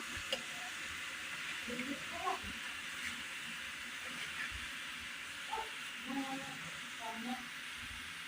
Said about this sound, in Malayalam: ഒന്ന് ആവി കയറ്റി വേവിച്ചെടുക്കാം